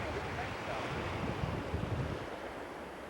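Atlantic ocean surf heard from a seaside veranda, a steady broadband wash of waves mixed with wind rumble on the microphone, continuous and fairly distant with no talk.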